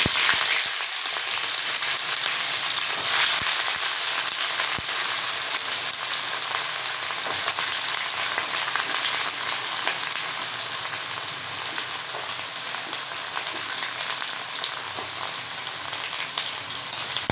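Loud, continuous sizzling of three medium chopped onions frying in a hot pan for prawn curry gravy, with occasional soft scraping as they are stirred.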